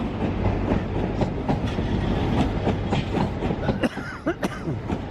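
A high-speed HST train rumbles steadily with clickety-clack along the rails, loud and close, with squeals and clunks near the end as it slows arriving at a platform.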